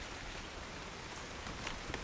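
Steady, gentle rain patters continuously, soft and fairly distant, with a few slightly sharper drops toward the end.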